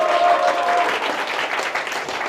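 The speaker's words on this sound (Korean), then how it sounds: "박수로 먼저 환영해 주시고요" A youth church group claps to welcome a newcomer, a dense, loud burst of applause from a roomful of teenagers lasting a couple of seconds.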